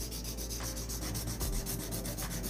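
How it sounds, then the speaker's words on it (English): An emery board rasps steadily back and forth across a long nail in quick, even strokes, close and clear with no talking. "Just a quick hand file. Smooth out the surface."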